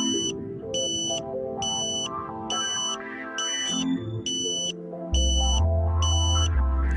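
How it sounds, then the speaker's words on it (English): A satellite internet kit's antenna alignment locking tone sounds as a regular series of about nine short electronic beeps, evenly spaced and clear, over a low hum and tonal background that swells into a steady drone near the end. "You then hear the locking tone."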